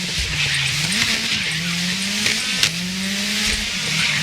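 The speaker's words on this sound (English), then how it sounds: "Locking up on the brakes." A race car in the racing game GRID locks its brakes, and its tires squeal in several wavering, high-pitched skids over a constant engine and crowd roar.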